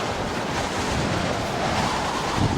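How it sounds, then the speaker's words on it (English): Strong, steady wind roars across an exposed high valley in the Torres del Paine mountains, a continuous broadband rush with gusty surges and no voices. "the wind is incredibly constant at this latitude"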